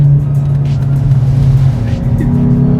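A Hyundai i20 N drives on the road, its engine droning loud and steady from inside the cabin with a rising pitch change near the end, while people talk over it.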